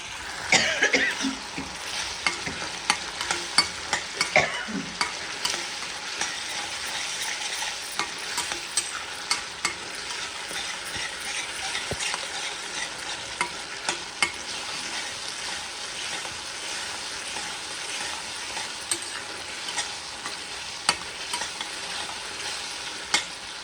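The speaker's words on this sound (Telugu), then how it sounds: "పులిహోర పులుసు కొంచెం ఇట్లా నూనె పైన లేవగానే ఈ మొరమరాలు బొరుగులు వేసేసి" Puffed rice is stirred and fried in hot oil with tamarind paste, giving a steady sizzle with scraping stirs throughout and a cough near the start.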